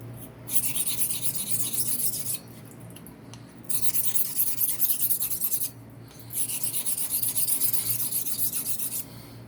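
A Gold Dollar straight razor is honed on a Naniwa Professional 400 grit stone in three long bursts of rough, gritty rasping strokes separated by short pauses, close and steady with no speech.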